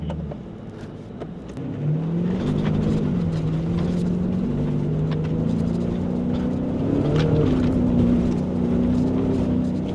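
A 2024 Ford F-150 Raptor R pulling away off-road, its engine note climbing from a low idle into a steady loud droning rumble that rises and holds with slight pitch shifts, no talking over it.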